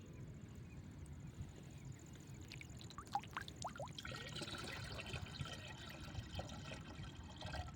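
Water is poured into a container while mixing a farm spray dose, a faint trickling splash heard alone over a low background hum.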